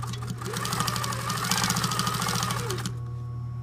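A sewing machine stitches a seam on costume fabric with a fast, steady rapid-fire needle rhythm over a constant motor hum, close and loud, stopping abruptly near the end.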